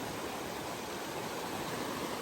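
Strong river current rushing during a river trek on Romblon island, a steady broadband wash of flowing water with no pauses, moderately loud and close, with no voices.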